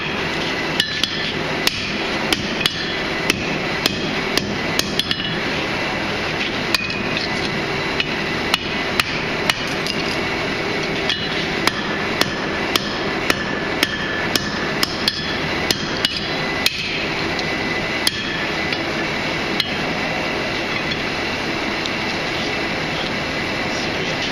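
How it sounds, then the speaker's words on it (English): Hammer blows forging the thin edges of a steel axe head at a blacksmithing demonstration, a steady run of sharp metallic strikes repeating every second or so over a continuous roar from the forge. "So I'm just trying to forge out on the very edges of that thing."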